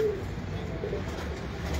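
Low, soft cooing from a genuine loft pigeon kept at home, a steady murmur close by with no talking over it.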